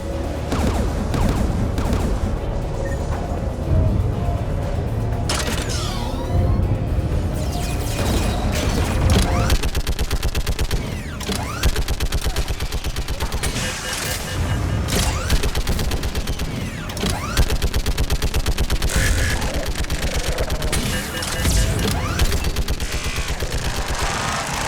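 Sustained anti-aircraft gun fire in the video game Mass Effect 3, loud and relentless rapid bursts mixed with booms and mechanical clatter, running without a break for over twenty seconds.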